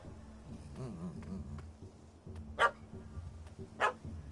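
A dog barks twice, about a second apart, in The Witcher 3: Hearts of Stone, each bark short and sharp over a low, murmuring game background.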